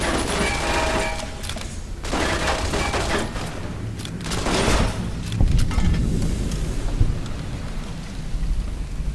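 Gunfire at turrets in Fallout: New Vegas, a dense, continuous barrage of rattling shots and booming blasts that stays loud throughout.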